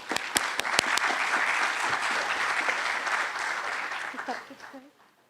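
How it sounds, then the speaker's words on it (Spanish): An audience at a judicial conference in Peru applauds to welcome a lecturer on consumer protection, opening with a few sharp distinct claps before settling into steady moderate clapping that fades out near the end. "a quien recibimos con un fuerte aplauso"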